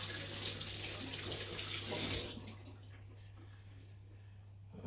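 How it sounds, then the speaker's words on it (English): Cold tap water runs over a fermented century duck egg for about two seconds, a splashy hiss under a low steady hum, then cuts off to quiet room tone with small drips. "I'll just quickly give it a rinse under some cold water"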